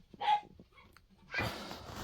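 A dog barks once, fairly close, then a rush of broadband noise follows, with no one speaking.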